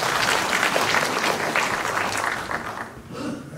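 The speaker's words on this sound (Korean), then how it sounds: "뜨거운 박수 한번 해주세요" Warm applause from the audience at the 50th memorial service for Yu Jin-san, a dense wash of many hands clapping together that tapers slightly toward the end.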